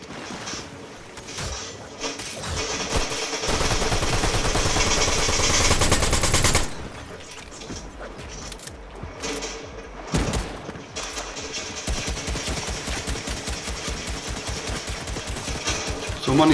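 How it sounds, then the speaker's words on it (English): Gunfire in the battle royale game Fortnite: long sustained bursts of automatic fire with short pauses and single shots between, loud and close, with a player speaking briefly. "Someone is shooting me"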